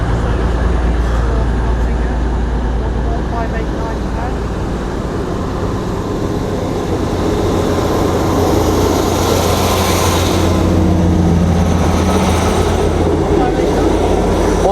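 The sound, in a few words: Northern train departing Chesterfield station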